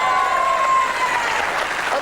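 A television game show studio audience cheers and applauds steadily, a broad dense wash of clapping at close range that holds throughout with no voices standing out.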